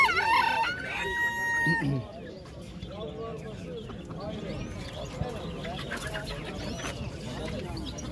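A rooster crows once near the start, loud and close, then a busy bird market hum of chatter and background noise continues, at Edirnekapı bird market, Istanbul.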